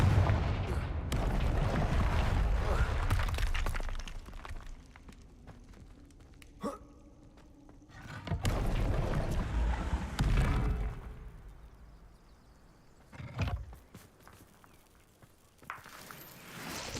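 Blasts from the Confringo explosive spell in Hogwarts Legacy boom in several loud bursts separated by quieter gaps, each hit followed by a rumbling tail, with sharp cracks scattered between them.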